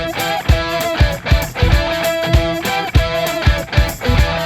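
A forage harvester chops corn silage in the field with a steady, loud mechanical drone. Rhythmic thumping pulses land about every half second, and no one speaks.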